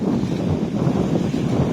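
Wind gusting at a seaside bay on the Thai coast at Ao Udom in the evening, a steady, loud buffeting rumble across the microphone with a faint wash of water beneath and no talking.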